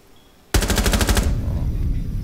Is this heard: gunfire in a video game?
yes